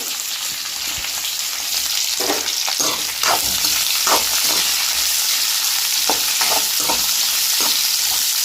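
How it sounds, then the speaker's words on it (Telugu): Two large onions frying in oil in a pan for hotel-style puri curry, a steady loud sizzle with scattered stirring scrapes and crackles throughout, no voices. "ఇప్పుడు ఇందులో ఉల్లిపాయలు అయితే వేసేస్తున్నామండి రెండు పెద్ద ఉల్లిపాయలు అనమాట"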